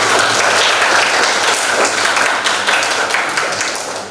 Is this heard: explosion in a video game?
no